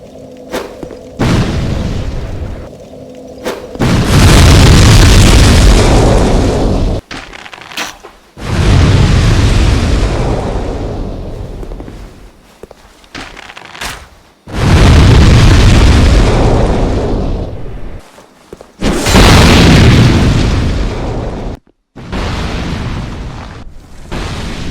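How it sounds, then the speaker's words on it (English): Heavy explosions from the video game Dark Souls 2 boom one after another, each a loud, sustained roaring blast that cuts off abruptly into brief silence before the next. "So let us listen to some explosions."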